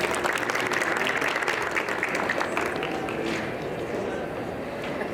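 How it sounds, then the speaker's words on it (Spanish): An audience at a medical expo conference gives a round of applause, a steady patter of clapping that fades slightly toward the end, with a voice talking over it. "Lo despedimos con un fuerte aplauso,"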